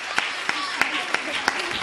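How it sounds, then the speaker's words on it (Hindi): Audience applause breaks out at a spoken talk: a steady wash of many hands clapping for about two seconds, with a few sharp louder claps standing out at a fairly even rhythm. "समझ गया तो ताली बजाइए"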